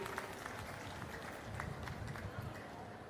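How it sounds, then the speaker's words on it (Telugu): Audience applause at an official review meeting: steady, dense clapping at moderate loudness lasting the whole stretch, with voices mixed into the crowd noise. "గట్టిగా చప్పట్లు కొట్టి అభినందించండి"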